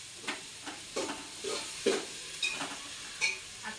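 Vegetables for veg pulao fry softly in a pan while being stirred, with a low sizzle under repeated scraping strokes and light clinks of the utensil against the pot.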